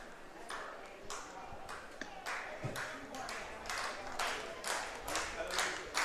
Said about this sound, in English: Fans clapping along early here for the Majors,